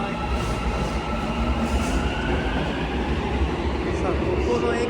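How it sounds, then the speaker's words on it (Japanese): A train rumbles out of a station in Almaty, with a heavy continuous low roar, rolling wheel noise and faint squeals, loud and close for the whole stretch. "電車が出発、バイバイ。"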